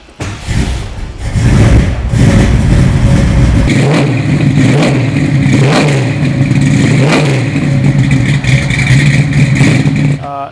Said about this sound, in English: I'll start the car and you tell me what you think.